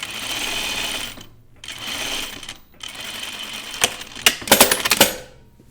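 A sewing machine runs in bursts while understitching a floral caftan dress, with whirring stretches broken by short pauses and a cluster of sharp mechanical clicks near the end, heard close and without talk.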